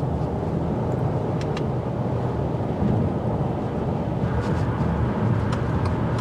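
Steady low drone of a 2024 Subaru Legacy Sport turbocharged boxer flat engine heard from inside while driving, with road and wind noise as a constant unbroken hum.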